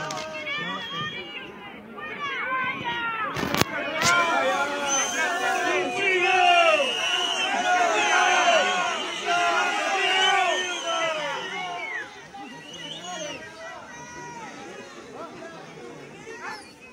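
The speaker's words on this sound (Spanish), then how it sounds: "Y el abucheo, a ver." A large crowd at a funeral in Chile boos and shouts at the country's president, a loud, dense wall of overlapping voices with a couple of sharp knocks early on, easing toward the end.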